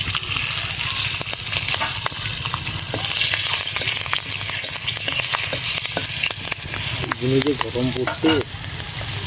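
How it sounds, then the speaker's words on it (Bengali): Bay leaves and slit green chillies dropped into hot mustard oil left over from frying eggs, crackling and sputtering loudly up close with sharp pops and a continuous sizzle, stirred now and then, with no voices. "ফোড়ন দিব তেজপাতা কয়েকটা চেরা কাঁচা লঙ্কা"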